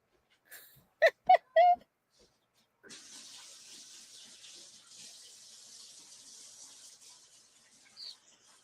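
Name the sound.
tap running while washing hands at sink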